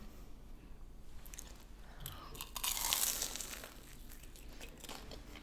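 Close, soft crunching and chewing of a bite of spicy carbonara fire sauce rice cakes topped with mozzarella, the mouth sounds building to a louder moment midway before easing off, with no talk.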